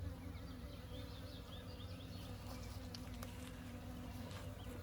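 Honey bees buzz steadily around their hive as they walk up into it toward their queen, a dense continuous hum close by with occasional brighter individual wingbeat passes.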